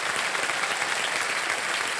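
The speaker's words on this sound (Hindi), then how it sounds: "तालियां बजाएं उनके लिए" Studio audience on Kaun Banega Crorepati applauds a contestant with dense, steady clapping that stays loud throughout the short stretch.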